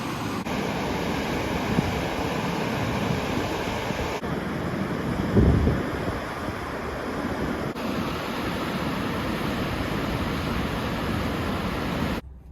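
An Icelandic waterfall roaring nearby as a dense, steady rush of water noise with heavy wind buffeting the microphone and a brief low thump midway; no voices.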